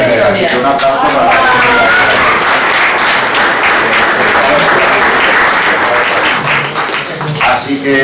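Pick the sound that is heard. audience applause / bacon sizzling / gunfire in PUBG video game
audience applause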